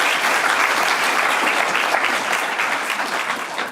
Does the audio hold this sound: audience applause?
yes